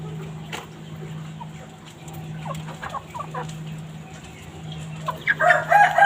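Chickens on a poultry farm clucking in short, near bursts over a low steady background hum, growing louder toward the end.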